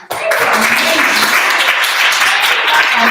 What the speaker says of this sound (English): let's give a round of applause for all the previous speakers